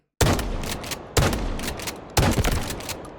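An FS-12 semi-automatic shotgun in the Delta Force video game fires three loud, close booming shots, about one second apart, each with a short decaying tail.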